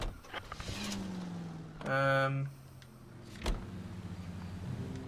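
A car in the L.A. Noire game, with a low engine rumble throughout, a rising mechanical whine in the middle and a sharp thud near the end, all at close range.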